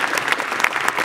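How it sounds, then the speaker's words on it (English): A room full of people applauds a new GP2 motor-racing team at a Team Lotus announcement, a dense, steady patter of many hands clapping with no break across the short stretch. "please give a round of applause to Louisa and David"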